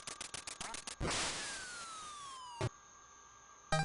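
Chiptune sound effects from the Duck Hunt video game: rapid clicks, then a long falling electronic tone as a duck drops, a burst of noise, and a steady synthesized note before more quick blips.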